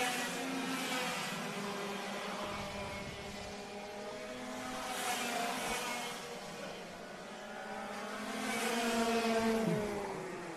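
Racing karts at a national kart championship round at Fulbeck circuit buzz through a chicane, engines rising and falling in pitch as they brake and accelerate, heard from a distance at moderate level without talk.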